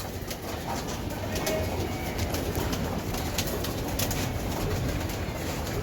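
Racing pigeons coo softly against a steady wash of outdoor background noise, with a few brief sharper sounds breaking through.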